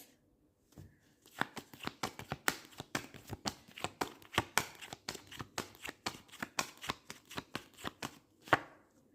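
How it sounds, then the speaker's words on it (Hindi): Tarot cards slap and patter down one after another in a steady run of crisp, close taps lasting several seconds, quiet and without speech. "एक सेकंड ना, व्यूअर्स कार्ड गिर गए"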